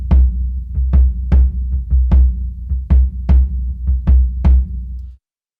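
A high-tuned bass drum fitted with an Aquarian Superkick head thumps repeatedly with a deep, 808-like boom, about a dozen hits in a steady, slightly syncopated pattern, close and loud with no talking.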